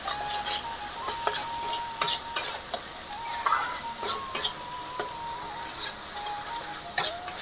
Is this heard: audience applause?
no